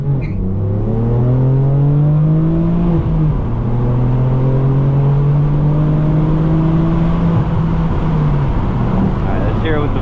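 A manual BMW M4 F82 with a loud aftermarket exhaust drones and revs close by. The engine note holds steady and drops briefly twice, as if between shifts.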